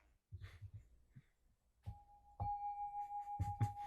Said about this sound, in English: A little bell for Ginny too.